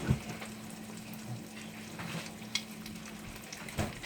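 Chorizo and eggs fry in a pan with a steady soft sizzle and crackle, broken by a few sharper clicks and scrapes from moving the food around, and no one talks.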